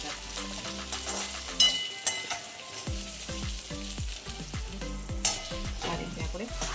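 Sabudana khichdi sizzles in a pan while a spoon scrapes and stirs it in repeated quick strokes, close and moderately loud over a continuous frying hiss.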